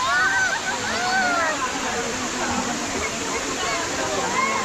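Rushing water at the Bolinao waterfall in the Philippines, where bamboo rafts float, a loud, steady roar of falling and splashing water with voices talking over it.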